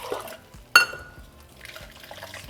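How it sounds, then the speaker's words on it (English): A cup of bean water is poured onto smashed beans in a pot, with a sudden liquid splash followed by soft trickling and faint kitchen sounds, close and quiet. "I'm going to be adding 1 additional cup of the bean water."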